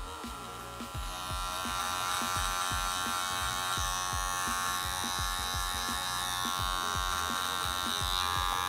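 An electric hair clipper fitted with a half-size guard trims a beard fade, buzzing steadily and close with a rapid series of short snipping strokes as it passes through the hair.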